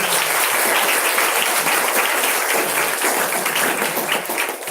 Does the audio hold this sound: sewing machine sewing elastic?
no